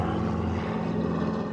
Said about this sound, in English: Black, unmarked helicopter. They fly over regularly.